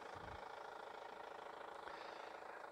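The 2.0 turbo diesel engine of a 2013 Chevrolet Captiva LTZ, rated at 163 horsepower, idles with a steady, low, faint rumble that holds even throughout, with no talking.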